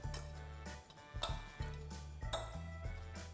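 A fork stirring couscous salad with vegetables in a bowl, giving light ticking clinks and taps at an uneven pace while background music plays underneath.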